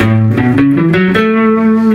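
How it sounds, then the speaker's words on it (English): A single guitar chord strummed and left to ring, its notes sustaining steadily for about two seconds with a slightly distorted, effected tone. "Play the chord."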